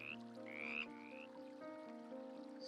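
Frog croaking in the game Little Witch in the Woods, a few short chirpy croaks rising over a steady, soft ambient music bed, close and clear.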